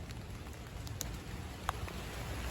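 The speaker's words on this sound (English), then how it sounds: "Now it's raining." Rain begins falling outdoors, a soft, steady patter with a few sharper drops landing nearby, faint and without talking.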